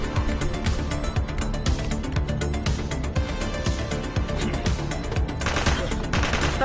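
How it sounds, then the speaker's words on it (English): Dense, sustained gunfire from The Precinct police game, a continuous loud rattle of shots with no pauses, busier bursts toward the end and no talk. "She's shooting!"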